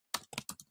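A handful of quick, crisp computer keyboard keystrokes, five close taps in under a second with short gaps between them, soft and alone with no voice.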